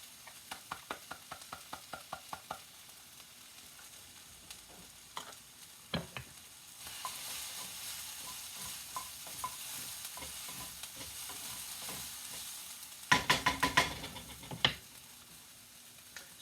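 Onion and garlic for moussaka frying in a pan, steady sizzling broken by a run of rhythmic spoon taps at the start, scattered stirring knocks, and a louder flurry of clattering strikes near the end.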